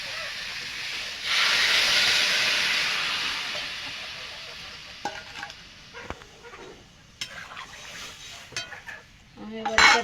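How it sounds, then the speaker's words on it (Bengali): Pumpkin and potato sizzling in a hot pan, with a loud hissing surge when water is poured in that slowly fades, followed by scattered clinks of a utensil against the pan near the end. "কুমড়োটা আর আলুটা একটু ভেজে নিয়েছি, জল দিয়ে দেবো স্বাদ মতো।"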